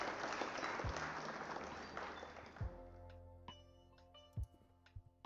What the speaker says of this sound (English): Round of applause for Pockets.